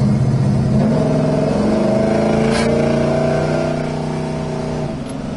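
A 1967 Pontiac GTO rolling along and braking, the engine's steady low droning harmonics easing off as the car slows, heard from inside the car, loud and continuous.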